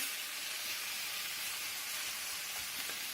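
A vegetable mixture for instant tomato dosa fries on a flat dosa pan, giving a continuous, even hiss and sizzle throughout, with no voices.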